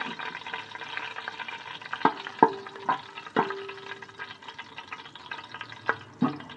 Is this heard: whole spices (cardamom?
yes